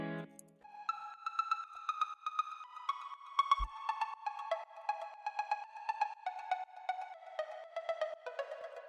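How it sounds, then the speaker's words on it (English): Synth pluck melody from the Pluck Agudo preset in Citrus, sounding as short, clean plucked notes in a steady melodic run, clear and alone, with no talking. "this is the pluck sound for the melody"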